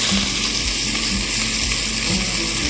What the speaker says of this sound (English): So I'm just going to finish sauteing them.